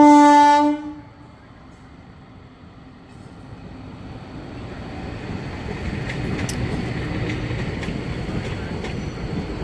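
An electric goods train passes close by: a loud blaring horn opens the sound, then cuts off into a building, continuous rumble and clatter of wagons rolling past with occasional metallic squeals.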